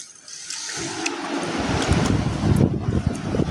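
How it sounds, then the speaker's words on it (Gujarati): Water pours from an opened overhead valve into a storage tank, starting as a thin hiss and swelling into a loud, gushing, turbulent rush that keeps building, with no talk over it. "અત્યારે ટાંકામાં પાણી ભરાય છે, ઉપરનો વાલ ચાલુ કર્યો"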